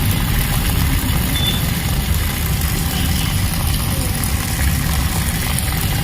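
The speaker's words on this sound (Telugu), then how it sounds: "మొదటిసారి మన చెయ్యిని ఐఆర్ సెన్సార్ ముందు పెట్టగానే మోటార్ అనేది వాటర్ అనేది ఆన్ అవుతుంది" A water pump motor switched on by an IR sensor runs with a steady, loud low hum and mechanical drone, unchanging across the whole stretch.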